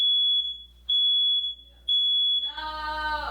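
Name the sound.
fire alarm going off while baking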